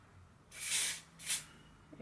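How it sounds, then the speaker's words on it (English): Two quick hissing bursts from a spray bottle misting hair on a lace closure wig install, the first longer than the second, close and fairly soft against a quiet background. "I'm going to spray this again"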